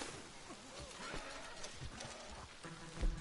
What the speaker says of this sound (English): Why is my horse scared?